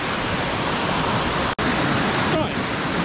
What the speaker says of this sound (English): Found a nice little waterfall here.